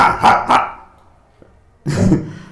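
A person imitates a dog with a pair of quick, loud barks, then after a pause gives one more gruff, lower bark up close, with no other talk around it.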